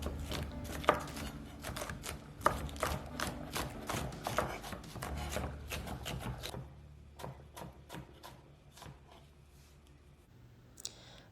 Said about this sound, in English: I will be chopping my vegetables finely today.